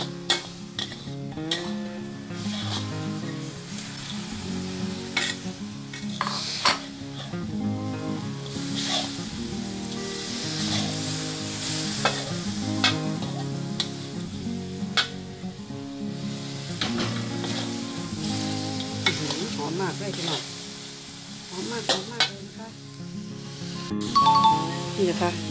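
Fish meat being stir-fried for a spicy Isan dish keeps up a continuous sizzle in the pan, with repeated spatula scrapes and light clinks throughout.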